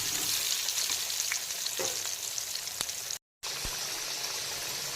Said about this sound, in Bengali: আলুগুলোকে প্রথমে খুব ভালো করে ডুবো তেলে ভেজে তুলে নেব